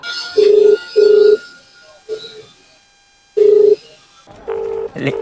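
Phone ringing on speaker during a call to someone's mom, four loud repeated ring tones in a steady pattern with quieter gaps, and voices briefly in between and at the end.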